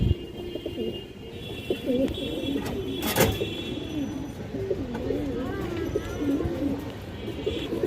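An old-breed male pigeon of a Palla-line strain coos in repeated throaty rolling phrases, close and clear, with a voice and some background noise around it.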